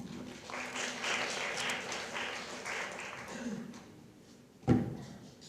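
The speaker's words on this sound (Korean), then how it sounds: "힘찬 박수로 맞아주시기 바랍니다" Audience applause welcoming a student presenter at a university leadership presentation event, a moderate crowd clapping that swells and then fades out, ending in a single sharp knock or bump near the close.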